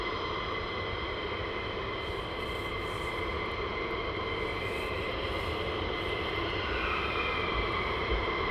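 Fighter jet roaring with afterburner during night flying at RAF Lakenheath, home of USAF F-15s and F-35s; a loud, steady, broadband engine roar holds for the whole stretch with no voices.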